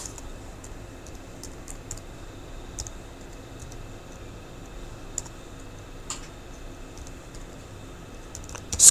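Soft, fast clicking of a computer keyboard as a chart title is typed, light keystrokes in quick irregular bursts over a low steady room hiss.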